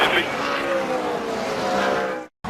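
NASCAR stock cars roaring at full speed through a big wreck at the finish of a Daytona race, a dense, loud, steady engine drone that cuts out abruptly near the end before returning.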